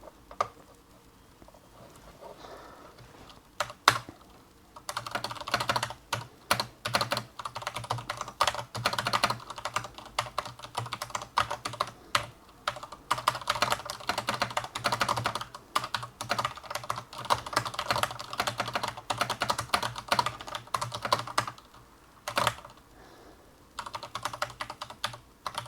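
Coding a solution on a computer keyboard, with steady, fast, close-up key clatter running nearly nonstop for about twenty-five seconds, broken by brief pauses and occasional sharper thumps, with no talking.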